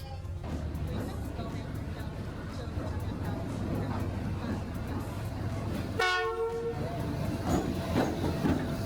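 A train arrives at a railway station in Vietnam with steady low rumble and rolling noise, then a clear horn blast sounds for under a second partway through, while nearby voices murmur in the background.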